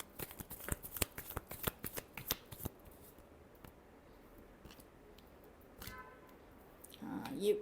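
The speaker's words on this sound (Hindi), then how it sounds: "Last shuffle." Tarot cards are shuffled in a rapid run of crisp riffling clicks, which thin out into sparse taps and softer handling. A brief voice is heard near the end.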